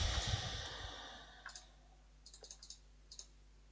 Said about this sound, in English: I'm obviously clicking on the screen